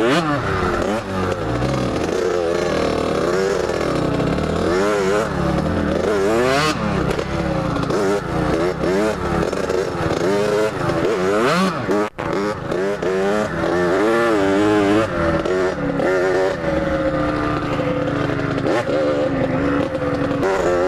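Small dirt bike ridden over whoops and berms, engine revving and bogging in continuous rising and falling pitch sweeps, loud and close throughout with a brief dip midway.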